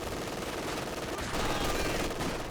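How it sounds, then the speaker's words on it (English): Machine gun bunker firing in a Company of Heroes-style World War II strategy game, a steady rattling burst of automatic fire mixed with other battle gunfire, continuous and fairly loud throughout the short stretch. "I didn't even notice this very early machine gun bunker Sergeant Sherman"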